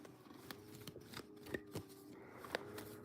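Tarot cards shuffle in quick, soft riffling bursts with sharp slaps between them, close and fairly quiet, with no voice over them.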